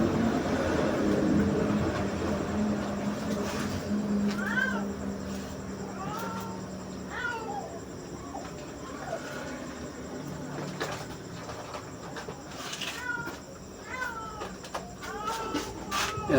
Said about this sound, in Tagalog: Pusang laog.